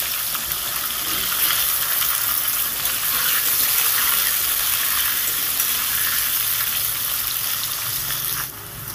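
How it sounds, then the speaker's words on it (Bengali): Diced potatoes fry in hot oil left from frying duck eggs, a loud, steady close sizzle that holds throughout before dropping slightly at the end. "এবার ওই তেলের মধ্যেই ডুমো ডুমো করে কাটা আলুগুলোকে আমি দিয়ে দিচ্ছি"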